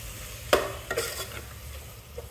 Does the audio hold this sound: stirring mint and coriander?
yes